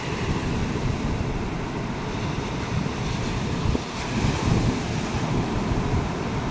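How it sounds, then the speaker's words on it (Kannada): Sea waves surging and breaking at Marina Beach in Chennai, a steady rolling wash of surf mixed with heavy wind rumble on the microphone, continuous and close with no voices. "ನೋಡಿ, ಎಂಥ ಅಲೆ ಆದರೂ ಕೂಡ ಇದನ್ನ ದಾಟಿ ಬರ್ತಾ ಇಲ್ಲ"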